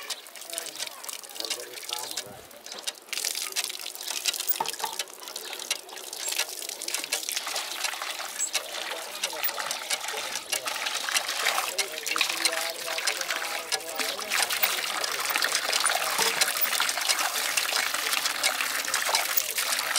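Water from a hand pump splashes and trickles steadily for a long stretch, close by, with a faint voice now and then under the flow.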